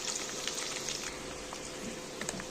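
Chopped onion sizzles steadily in a hot pan, a continuous crackling fry with a few soft stirring clicks, close and moderately loud with no talking.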